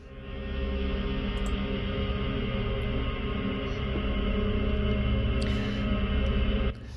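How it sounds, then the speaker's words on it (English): A dark, droning synth pad played on a keyboard holds steady for several seconds, thick and low, with a faint airy shimmer on top before cutting off. "I believe it's ambience, dark and scary"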